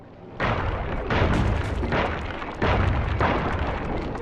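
Bomb explosions in the video game Sly 2, with a loud booming blast followed by a second similar rumble, both broad, sustained and close with no speech.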